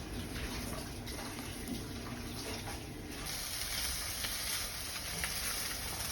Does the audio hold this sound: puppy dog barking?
no